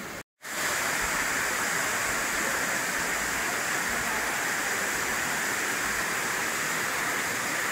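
A waterfall along a difficult mountain pilgrimage trek gives a constant, even rushing roar, close and moderately loud, running steadily after a brief moment of silence at the very start.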